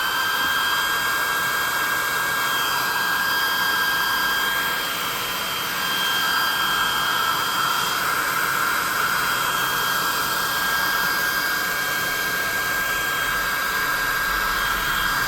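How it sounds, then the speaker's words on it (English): Hot air gun blowing steadily on a hot-glued miniature Delver figure with stone detailing, a loud continuous hiss with a high whine running throughout, no voices. "Let's hit him with the hot air, +2 hot air gun and burning."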